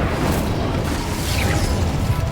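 Confringo and Incendio fire spells in Hogwarts Legacy erupt in a dense, booming blast, a sustained roaring burst of fiery energy, loud and continuous with no voices.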